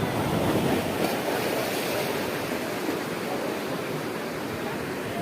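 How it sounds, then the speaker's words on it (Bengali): Sea waves roll in at Digha Mohona beach under cloudy skies as the tide slowly rises, a steady, dense wash of surf noise that stays loud and unbroken throughout with no voices. "ধীরে ধীরে জোয়ার বাড়ছে।"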